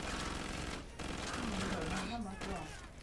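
Dense gunfire in a shooter video game rattles continuously in rapid overlapping bursts, with a player's voice cutting through the shooting.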